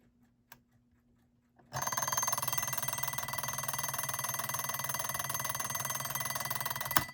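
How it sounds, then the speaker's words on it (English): Westclox Sphinx electric alarm clock ringing: after a near-silent start with a faint click, a loud steady buzzing ring starts and holds evenly for over five seconds, close by and alone. "Okay, here we go, we're gonna turn the alarm on,"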